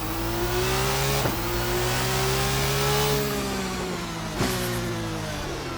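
Race Sim Studios RSS 2 race car in Assetto Corsa at the Nurburgring GP, engine revving loud and close with steady rising and falling tones, broken by two sharp gear-shift dips.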